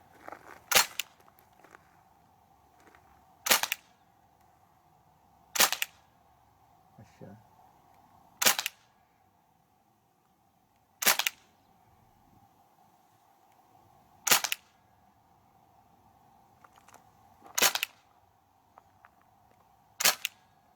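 A KWC Uzi blowback BB air pistol fires single sharp snapping shots at a target, about eight evenly spaced cracks over a quiet background hum.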